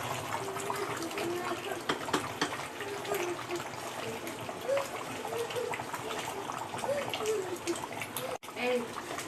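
Dhaba-style chicken curry boiling in a pot on a gas stove, with a steady bubbling, watery simmer that runs continuously at close range, while a voice talks over it.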